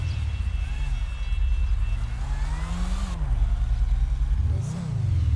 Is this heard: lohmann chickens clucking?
no